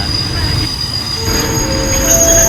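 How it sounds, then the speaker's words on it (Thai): Ordinary passenger train 251 on the Thonburi to Prachuap Khiri Khan route pulls into Salaya station, with a steady loud rumble and high, thin wheel squeals that rise as it slows. "ขบวนรถธรรมดา 251 ต้นทางตนบุรี ปลายทาง ประจวบคีรีขันธ์เข้าจอดที่สถานีรถไฟสารายา"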